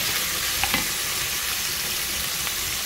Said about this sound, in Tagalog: saute mushroom with spinach